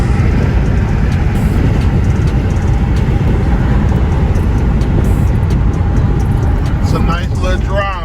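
Interior of a 1991 Chevrolet Blazer driving on the road, a steady loud low engine and road rumble throughout, close and unbroken, with a brief rising squeal toward the end.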